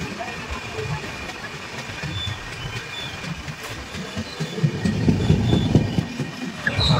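The Mahabubnagar–Visakhapatnam Superfast Express running on East Coast Railway track, a steady loud rumble of wheels and carriages with faint clatter and a low roar that swells near the end, heard from on board.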